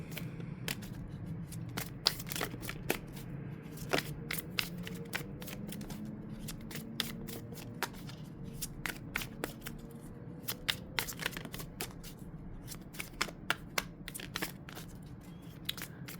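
Tarot cards shuffled by hand for a reading, producing a steady run of sharp riffling clicks and snaps that repeat irregularly over about sixteen seconds at moderate, close range with no talking.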